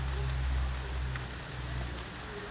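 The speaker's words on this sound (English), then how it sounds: "It's been raining all day." Steady rain falls with sleet and hail during a December thunderstorm in Connecticut, a continuous hiss with faint scattered ticks, close and constant throughout with low background rumble.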